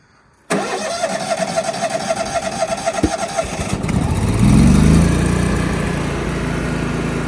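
A fuel-injected engine on a 30-degree day cranks briefly, catches and settles into a loud, steady idle as it warms up, nearby and without talk.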